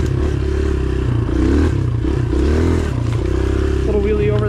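An enduro motorcycle rides through swampy woods, its engine droning loud and close with shifting revs and clattering as it rolls over rough ground and a downed log.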